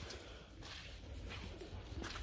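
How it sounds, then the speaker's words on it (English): Pigeons coo faintly inside an abandoned, mold-ridden Ames department store, a soft, scattered murmur under steady hiss and room noise. "Hear all the pigeons in here?"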